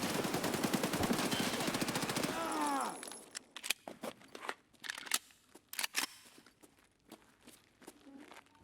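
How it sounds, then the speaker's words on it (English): Rapid gunfire in Escape From Tarkov, a loud, sustained automatic burst with ringing metallic echo, then scattered single sharp shots and footstep-like thuds at a distance. "get a quick volley of shots off before I dive back into cover"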